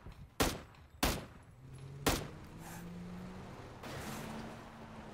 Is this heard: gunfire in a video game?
yes